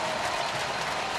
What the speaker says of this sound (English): the crowd erupted for no reason as far as the play here